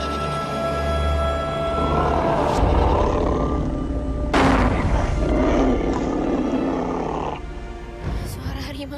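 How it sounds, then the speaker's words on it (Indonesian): A tiger roars loudly and close, a deep rumbling growl that swells and holds for several seconds amid dense, noisy background sound. "Suara harimau."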